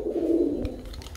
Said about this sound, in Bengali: কাসুরি কবুতর, সকাল সন্ধ্যা উড়ে যাকে বলা হয় বন্ধুরা